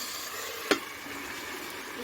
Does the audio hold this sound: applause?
no